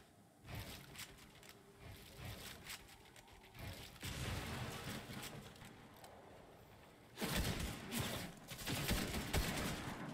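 Bursts of gunfire from a Fortnite match during a collegiate esports tournament, dense rapid shots and clattering in clusters that grow louder toward the end, with faint voices underneath.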